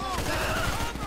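Rapid automatic gunfire crackles in GTA 5 during a gang shootout, a dense burst of shots over game sound, with voices underneath.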